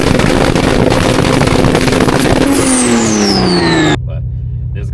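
Twin-turbo 550 hp inline-six in a 2026 Dodge Charger Scat Pack Six Pack, roaring loud and close as it revs hard, pitch climbing and then falling away before the engine drops to a steady lower drone.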